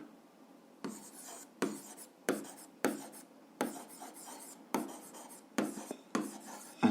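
A pen scratches across paper as an algebra equation is written out by hand, in about nine short, close scribbling strokes separated by brief pauses.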